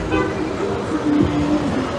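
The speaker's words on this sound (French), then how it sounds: "Et des voitures de flics un peu partout." Road traffic with police cars rumbles steadily nearby in California, with cars passing at a moderate, even level and a brief hum rising over the engine noise.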